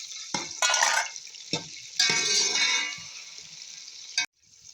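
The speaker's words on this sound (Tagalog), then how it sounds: "Already half fry string beans and radish" String beans and radish fry in a pan, with bursts of sizzling and stirring scrapes, loud and close, coming in irregular waves that stop abruptly near the end.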